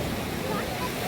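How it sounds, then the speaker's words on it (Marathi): Sea waves at Malvan beach make a dense, continuous wash of surf noise, loud and close, with wind buffeting the microphone throughout this short stretch. "भरपूर अशा लाटा"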